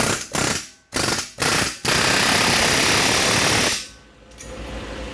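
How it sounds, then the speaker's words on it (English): Chisels are hammered into a rusted rear wheel bearing on a Subaru Crosstrek. Several short bursts of rapid, loud metallic pounding lead into one long sustained run, which then drops away to quiet. "The only way to get these things out that I've found is to use a whole lot of chisels."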